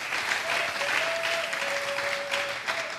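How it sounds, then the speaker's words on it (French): A church congregation claps steadily in acclaim of the Lord, a full, even wash of applause from many hands with a faint sustained tone running beneath it. "Est-ce que nous pouvons acclamer le Seigneur?"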